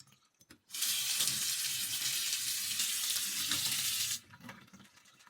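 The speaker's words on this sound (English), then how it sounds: "Filter the red beans with a sieve and give it a good rinse." Soaked red beans are rinsed in a sieve under a running tap, a steady loud rush of water for several seconds that cuts off cleanly, with faint clinks before and after.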